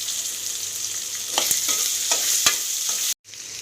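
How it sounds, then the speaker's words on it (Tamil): Ivy gourd sautés in oil in a pan with a steady close sizzle, punctuated by several sharp scraping stirs of a utensil against the pan. "எண்ணெயிலே வதக்கிடுங்க, தண்ணியெல்லாம் ஊற்ற வேண்டாம் இதுக்கு"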